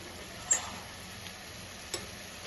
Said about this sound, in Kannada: ಒಂದ್ಸಲ ಮಿಕ್ಸ್ ಮಾಡಿ